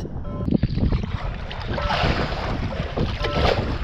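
Strong wind gusts across open water from a small boat out checking traps, a loud rumbling roar buffeting the microphone with faint lapping underneath.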